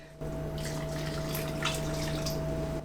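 Liquid is ladled into a pot in a home kitchen, giving a steady pouring, splashing wash that runs for nearly three seconds under a constant low hum, with no speech.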